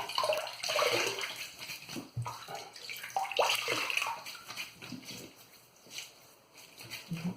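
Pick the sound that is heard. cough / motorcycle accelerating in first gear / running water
running water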